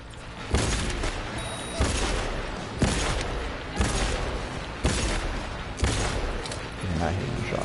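Repeated gunfire in the video game Cyberpunk 2077, heard as loud, evenly spaced shots roughly once a second over a dense, noisy battle background.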